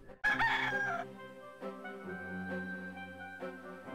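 A rooster crows loudly in the point-and-click video game Discworld 2, one strident cock-a-doodle-doo at the start that trails off into layered game music and ambience, with no talking.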